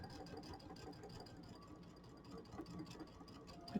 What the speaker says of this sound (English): we're just going to sew this 1/4 inch seam